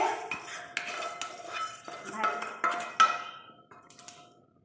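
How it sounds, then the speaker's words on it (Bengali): Fried rice scraped and spooned out of a pan into a vessel, with a series of close metallic scrapes and clinks of a ladle against cookware, heard alone with no talking. "এখন আমি চালটাকে একটা পাত্রে নামিয়ে রাখছি"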